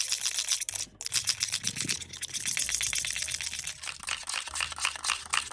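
Soap-based hand sanitizer slime stirred with a glittery spoon, producing steady rapid clicking, squelching and scraping strokes close up, continuous through the stretch with no talking.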